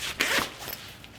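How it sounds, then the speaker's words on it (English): Zipper pulled open on the cover of a 5-in-1 photography light disc reflector, a quick close ripping zip that rises then trails off over about a second, alone with no talk. "when you open the zipper"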